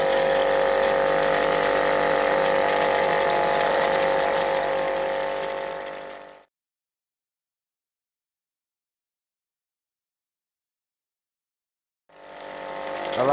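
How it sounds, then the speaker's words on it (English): Chain drive on a homemade PVC pipe trommel, powered by a small window motor, giving a loud steady mechanical rattle and whir, then cutting to silence for several seconds before resuming. "I like the chain drive."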